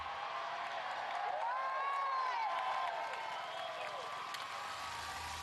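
Thousands of well-wishers crowd outside Buckingham Palace as King Charles arrives, a steady distant roar of applause and cheering with scattered whoops that carries on throughout.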